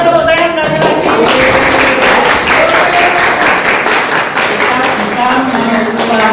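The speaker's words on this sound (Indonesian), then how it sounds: "boleh tepuk tangan sekali lagi" Audience applause fills a classroom session in Indonesia, dense steady clapping sustained throughout with some voices mixed in underneath.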